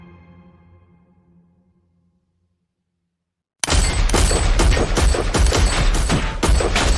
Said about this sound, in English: Gunshots rang out into the night.